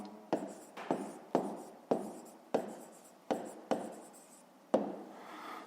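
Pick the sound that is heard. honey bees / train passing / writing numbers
writing numbers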